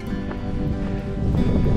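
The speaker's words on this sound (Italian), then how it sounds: "tira un po' di vento" Steady wind buffets the microphone high on a mountain trail among the Seven Rila Lakes in Bulgaria, a loud continuous rumble that swells slightly near the end, with no voices.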